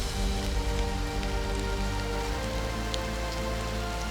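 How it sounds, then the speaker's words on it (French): Steady rain falls in a mountain setting, a dense continuous patter on surfaces with no breaks, close and fairly loud throughout. "Et puis la pluie. Fait que pleuvoir."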